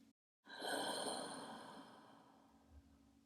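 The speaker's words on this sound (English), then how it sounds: "Open the mouth, exhale completely" A long, steady exhale through an open mouth during a yoga breathing practice, a soft breathy rush that swells after a brief silence and slowly fades over about three seconds, close and alone.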